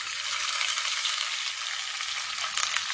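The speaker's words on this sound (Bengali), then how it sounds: "দিয়ে এবার আমি পেঁয়াজটাকে লাল লাল করে ফ্রাই করে নেব" Chopped onions frying in hot oil with whole garam masala spices, a steady bright sizzle with soft stirring scrapes, close and continuous.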